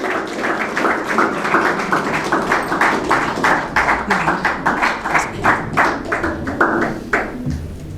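Enthusiastic clapping from an audience at a ceremony marking a television program's 100th episode, honoring the editor, a pastor; dense, steady applause throughout with a faint voice near the end.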